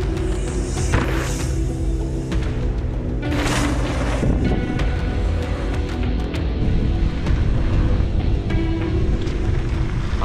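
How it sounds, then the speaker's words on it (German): Strong wind buffets the microphone in continuous gusty rushes, with rumbling noise and occasional louder bursts. "Es ist zu windig da."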